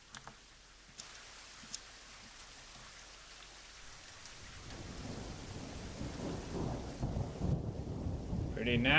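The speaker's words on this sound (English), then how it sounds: "you can also set it to rain with thunderstorm" Rain with a thunderstorm in the video game The Elder Scrolls II: Daggerfall, a few sharp clicks at first, then rain swelling into a steady rushing hiss with low rumbling building toward the end.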